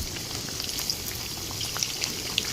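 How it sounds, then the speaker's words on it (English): Mixed vegetable sago cutlets fry over medium heat in a pan, giving a steady, close sizzle with scattered pops and crackles and no talking. "Now, fry both sides till both sides are equally well done."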